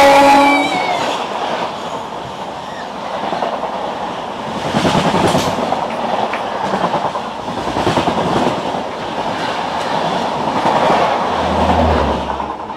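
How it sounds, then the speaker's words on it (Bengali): Howrah–Purulia Superfast Express, train 12827, passing close by: loud continuous rumble with rhythmic clickety-clack of wheels over rail joints, a brief horn-like tone at the start, no talking. "ট্রেন নম্বর 12-827 হাওড়া থেকে পুরুলিয়া সুপারফাস্ট এক্সপ্রেসের সাথে এবার আমাদের দেখা হবে"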